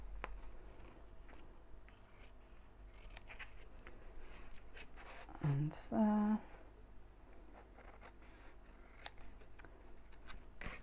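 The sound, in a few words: scissors cutting out square fabric pieces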